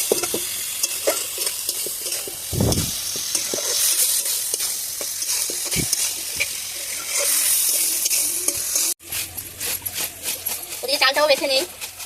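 A mustard-based dish fries in a pan while a spatula stirs and scrapes through it, a steady close sizzle broken by clinks and scrapes, with a person talking over it.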